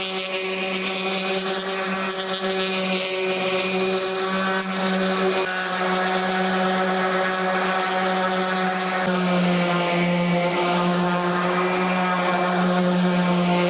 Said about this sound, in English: I think I'm just going to get the handheld sander and start sanding